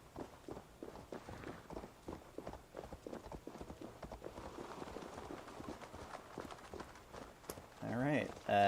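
Horse cantering in Assassin's Creed Valhalla, a fast, rhythmic run of hoofbeats at moderate level under a talking voice, ending in a brief louder burst of game sound.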